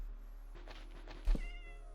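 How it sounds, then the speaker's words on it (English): A cat in the video game Snapshot lets out a couple of drawn-out, wavering meows close up, with a soft thump partway through and no talk. "This cat is making all sorts of noises here."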